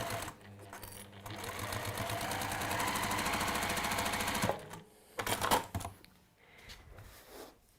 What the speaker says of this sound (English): I'm just going to baste it, so I'm going to increase my stitch length.